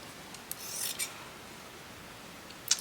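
Scissors cut down a fabric seam in a few quiet, brief snips and rasps over a faint steady background hiss, with no talking.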